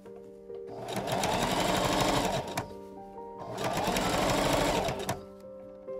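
A sewing machine stitching French side seams on a Victorian bustle gown runs in two loud, steady bursts of rapid stitching, each about two seconds long, with quieter gaps between them.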